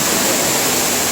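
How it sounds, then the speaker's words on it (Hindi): Bhagsu Nag waterfall near Dharamshala roars as a dense, steady wash of falling water, loud and close with no pauses. "तो हमारे पीछे जो वाटरफॉल है वही है भागसुनाग वाटरफॉल।"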